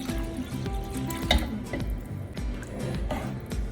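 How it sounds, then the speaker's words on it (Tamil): Biryani gravy is poured from a pan into a cooking vessel, giving wet, dripping, splashing liquid sounds with small clinks of metal, heard close and continuous for a few seconds without talk. "இந்த கிரேவி எல்லாமே இதில் ஊற்றிடும்."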